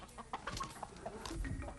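Chickens clucking close by in short, repeated bursts, with one louder squawk near the end, heard alone with no talk.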